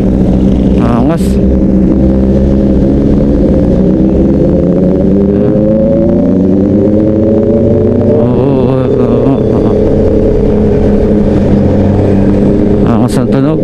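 A loud Honda CB650R motorcycle engine rumbles close by throughout, its pitch rising and falling as it revs, with a voice talking over it.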